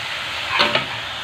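Water spinach (kangkung) stir-fried in a home pan gives a steady sizzle, with a brief louder scrape-and-toss of stirring near the middle, no talking.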